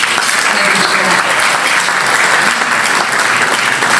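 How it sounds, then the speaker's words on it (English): Loud, dense applause from a gala audience at the Songs of Love gala honoring Leon Cooperman, a steady wash of many hands clapping without pause for the full length. "big round of applause for them"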